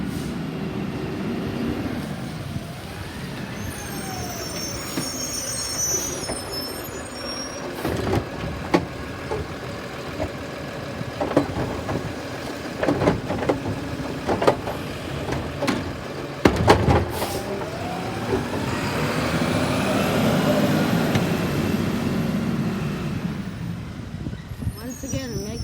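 A garbage truck works close by, its engine rumbling and surging while air brakes hiss and metal clanks come in bursts, then the motor swells steadily toward the end; a voice talks over parts of it.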